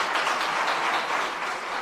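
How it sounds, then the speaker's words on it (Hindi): An audience applauds steadily for about two seconds, a continuous wash of many hands clapping at moderate volume with no talk over it. "जरा तालियां बजा दीजिएगा"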